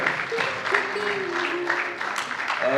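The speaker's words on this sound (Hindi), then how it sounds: "जोरदार तालियों से स्वागत करें" A live audience claps at a Hindi comedy drama performance, steady mid-level applause that rises slightly at the end, with a voice speaking faintly through it.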